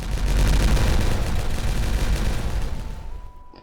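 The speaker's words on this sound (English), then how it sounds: "Let's watch it explode" Explosives blast into a mountainside in Timberborn, sped up, producing a loud rumbling roar of overlapping booms that sustains for several seconds before fading out into quiet.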